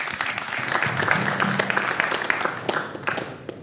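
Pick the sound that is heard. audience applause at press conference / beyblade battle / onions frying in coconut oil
audience applause at press conference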